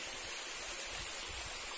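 Steady broadband rushing of a waterfall, a constant wash of falling water with no break or pause, heard close and fairly soft with no voices.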